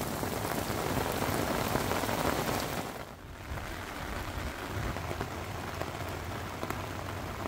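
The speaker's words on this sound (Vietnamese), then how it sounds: "mưa to quá" Heavy rain pours down in a dense, steady hiss while lure fishing, briefly dipping quieter before resuming its constant downpour close by, with no talking.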